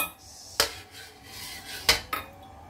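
Onion goes into coconut milk in a pan for ginataang sitaw. Two or three sharp metallic clinks of a utensil against the pan ring out close by over a quiet background.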